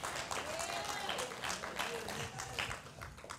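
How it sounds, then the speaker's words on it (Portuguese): A church congregation applauds during a Pentecostal service, continuous clapping heard at moderate distance with voices and shouts mixed in over it. "Dê um aplauso ao Senhor."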